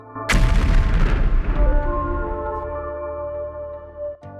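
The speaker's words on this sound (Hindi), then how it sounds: "एक जोरदार धमाका हुआ" A single loud booming explosion hits suddenly, then rumbles and rings out slowly over several seconds, with a faint thump near the end.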